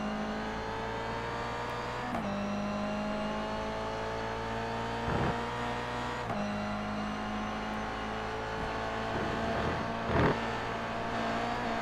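Toyota GR86 race cars lapping the Magny-Cours circuit, a steady engine drone with gear changes and shifting revs, and several cars passing close by with rising swells.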